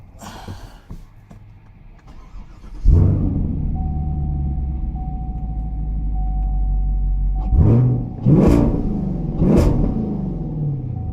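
A 2020 Chevrolet Camaro SS Hendrick Motorsports Edition V8 cranks and fires into a loud, close idle, holds a deep steady rumble, then gets three sharp throttle blips that rise and fall near the end.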